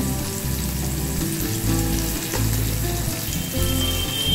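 Onion and green chili frying in oil with turmeric, a loud, close and continuous hiss and crackle with a low hum beneath, holding steady without voices.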